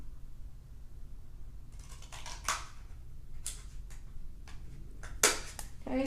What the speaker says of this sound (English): I'm going to go ahead and cut my slits on that line.